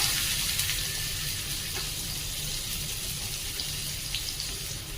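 Finely chopped onion sautés in a pan with a steady, close, hissing sizzle that carries on evenly for a few seconds with no talking.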